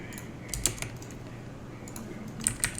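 Computer keyboard typing during video editing work: a few quiet, close key clicks in short bursts at the start and end, separated by a near-silent pause.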